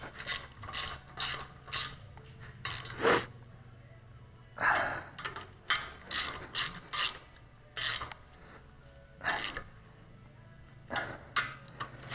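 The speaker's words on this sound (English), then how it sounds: "That one I gotta get with a wrench." Ratchet wrench turning a bolt while refitting a turbo on a 1955 car, a series of close, sharp clicking strokes in irregular bursts, fairly quiet with a low hum underneath.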